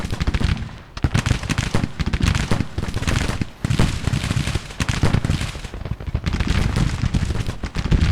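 Civil War cannons and massed musketry roar in the strategy game Grand Tactician: The Civil War, a dense, continuous barrage of loud booms and cracking shots with only brief lulls.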